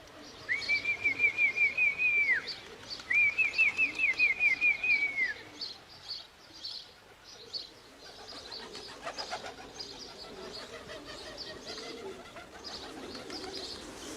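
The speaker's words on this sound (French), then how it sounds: "Les pigeons de concours sont entraînés régulièrement, et ce, dès l'âge de 3 mois." Racing pigeons coo in a loft in Belgium, two clear rolling coo phrases up close, followed by softer muffled rustling and shuffling sounds within the loft.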